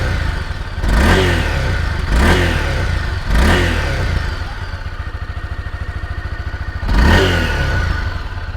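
A Honda CB300F motorcycle idles with a throbbing exhaust note and is revved in four sharp blips, each rising and falling quickly, with steady idle pulsing between them.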